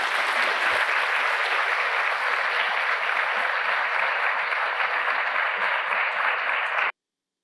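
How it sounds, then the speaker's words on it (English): Sustained audience applause after a keynote speech at a Naval War College symposium, a dense, even wash of many hands clapping for about seven seconds before stopping abruptly into silence. "You can't ask questions if you're clapping."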